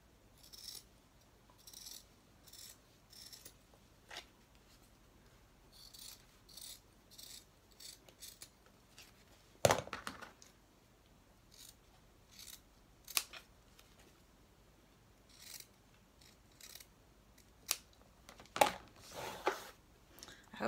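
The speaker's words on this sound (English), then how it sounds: "Snip that nose piece." Scissors snip a panel for a batwing mask in a string of quick, crisp, close cuts with pauses between them, and a few louder clacks of the blades along the way.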